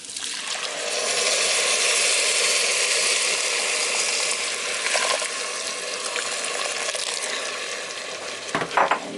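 Hot water is poured into a pot of coconut milk and rice for Caribbean rice and peas, a steady close rushing pour that holds for several seconds before tapering, with a brief clatter near the end.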